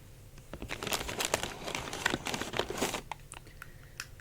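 Big plastic bag crinkling while old Monster High dolls are unboxed, busy close-up rustles and crackles for about three seconds, then a few scattered crinkles.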